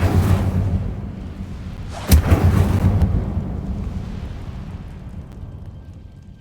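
A whooshing burst of the Incendio fire spell in Hogwarts Legacy flares up loudly and roars briefly before fading into a rumbling tail, with a softer rush heard just before it.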